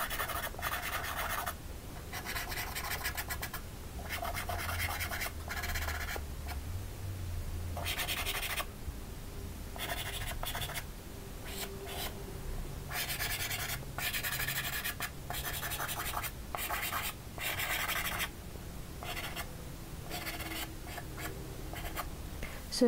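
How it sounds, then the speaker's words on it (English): Colored pencil softly sketching an orchid on paper, a close, fine scratching that comes in repeated strokes with brief gaps, steady and quiet. "I'm actually going to very softly sketch that through"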